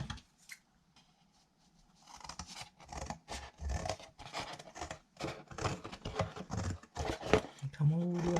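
Scissors snip and rasp through stiff material while a picture frame is cut out by hand, after a quiet start, a run of close, irregular cutting strokes and scratches, ending with a louder rustle.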